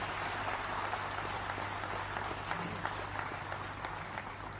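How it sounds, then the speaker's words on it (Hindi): Dense, steady applause from an audience at a government event, a continuous clatter of many hands clapping at a moderate distance over a faint low hum. "तो एक बार जोरदार तालियां हो जाएं आपके लिए प्लीज"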